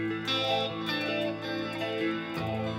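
Electric guitar played through the SONAR X2 amp simulator gives a dreamy, chorus-drenched tone with sustained chords and a gentle distorted edge, ringing steadily and close with no talking.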